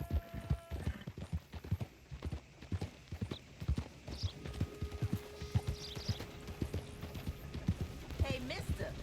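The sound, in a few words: horse hooves clip-clopping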